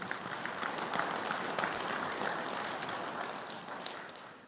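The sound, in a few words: congregation applause at a Buddhist service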